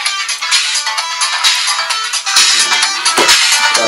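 Phone ringtone of an incoming call plays loud and continuous for several seconds, a bright melodic tone that fills the room, with shuffling and handling noises underneath.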